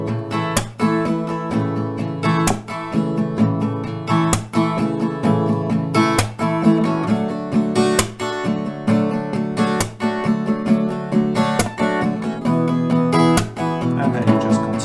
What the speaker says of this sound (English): So 1 round of this chord progression G, 4, C, 3, D1 sounds like this.